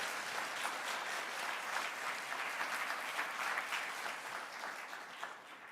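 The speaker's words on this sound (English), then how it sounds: "Yeah, you can clap." An audience claps steadily at a 150th anniversary event, a sustained, even wash of many hands, moderately distant and fairly quiet, easing slightly toward the end.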